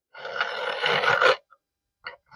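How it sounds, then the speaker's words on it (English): A large bastard file scraping across guitar frets, cutting them down toward the fretboard wood, in one long, close, coarse rasping stroke, then a short pause and a brief faint scrape. "So you just keep on doing this, the big old bastard file, until you get down to the wood"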